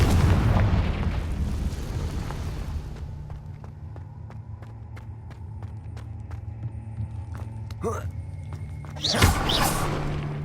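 A Confringo fire spell explodes in Hogwarts Legacy with a loud rumbling blast at the start that fades into a low hum and scattered clicks. A second sharp burst erupts near the end.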